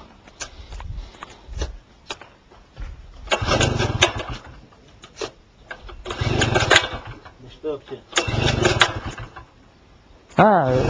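An engine on a machine is cranked several times, with rising mechanical bursts that cut out before a final catch near the end; people talk in between the attempts.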